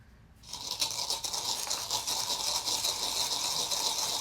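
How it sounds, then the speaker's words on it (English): Salt being crushed in a mortar with a pestle, a continuous close gritty grinding and scraping that starts abruptly after a brief quiet moment and keeps a steady rasping rhythm. "crush that salt a little bit"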